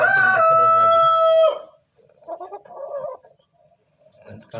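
A chicken crows loudly and close by in one long harmonic call lasting about a second and a half, followed by softer clucking and scattered chicken calls. The bird belongs to a flock being treated for a snoring respiratory condition.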